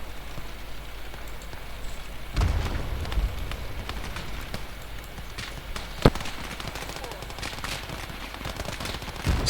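Thompson SMG fire in the Call to Arms Gates of Hell battle game: dense, continuous crackling gunfire with rapid bursts and one sharp louder crack, mixed with distant battle noise, with voices present.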